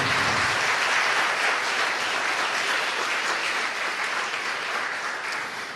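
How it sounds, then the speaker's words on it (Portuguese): A church congregation applauds in a loud, dense burst of clapping that stays strong throughout and eases slightly toward the end. "Você pode aplaudir o Senhor Jesus?"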